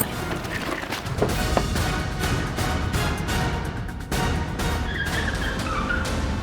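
A car pulls away in a steady, loud engine and road roar lasting several seconds, with a brief tire skid near the start.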